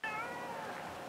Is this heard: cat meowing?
yes